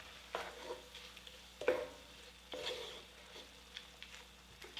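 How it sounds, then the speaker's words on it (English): Pancetta, rosemary and thyme being stirred into a hot skillet for braised rabbit, giving a soft steady sizzle with a few louder scraping strokes of the spoon, close up and without talk. "We're gonna add our pancetta, our rosemary and thyme. We'll mix that in."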